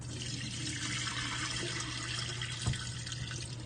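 Tap water runs steadily into a sink while rice is rinsed, a continuous close splashing hiss with one brief louder splash near the end and no talking.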